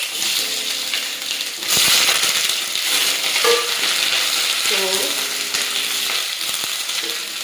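Onions dropped into hot oil for a matoke masala, bursting into a loud, steady sizzle and crackle of frying with a few stirring clinks, no talking.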